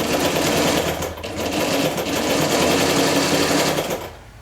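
A German Saalfeld (Knoch) straight-stitch sewing machine runs steadily at close range, a continuous whirring stitch rhythm for about four seconds before it stops.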